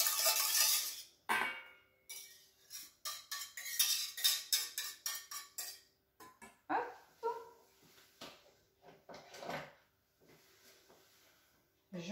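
Scraping a bowl while making a light strawberry charlotte with fromage blanc and whipped cream: repeated close, bright scrapes and clinks of a utensil against the bowl in irregular bursts, alternating with someone talking.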